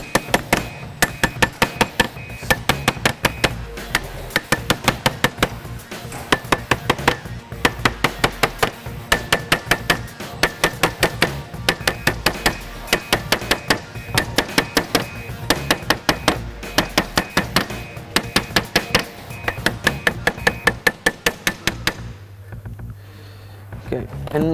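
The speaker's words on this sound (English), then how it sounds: "I'm gonna squash the handlebar with the hammer," Rapid, sharp hammer strikes flattening a metal handlebar ring out in a steady rhythm, dozens of blows close by, stopping briefly near the end before a final few.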